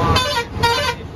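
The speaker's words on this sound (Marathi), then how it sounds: "तिकडून देखील हॉर्न आपल्याला ऐकायला मिळतो आणि इकडून देखील हॉर्न" Bus and vehicle horns honk on the Mumbai-Goa highway, two loud, sustained blasts about half a second apart against steady road traffic noise, close by.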